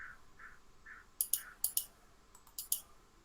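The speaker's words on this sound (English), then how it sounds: "Can you go on mute while you're clicking around, Biddy?" A computer mouse clicks repeatedly during an open online panel, sharp clicks falling in pairs and small clusters, moderately loud against a quiet background with no talk.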